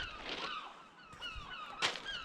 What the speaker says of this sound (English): There's so many seagulls, folks.